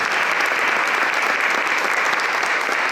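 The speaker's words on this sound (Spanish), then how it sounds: "Un aplauso para él." A room full of people applauds steadily, dense clapping filling the whole stretch with no talk.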